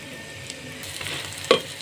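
An omelette frying on a low flame gives a steady, soft sizzle close by, with a single sharp tap or clink of a utensil near the end.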